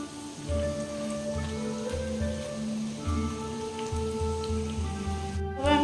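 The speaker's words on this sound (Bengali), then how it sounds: "বাকিগুলোকে ভেজে নিয়ে আসছি" Chicken nuggets frying in oil, a steady crackling sizzle like rain on a surface, close and continuous, with a rhythmic low humming pattern underneath and no talk.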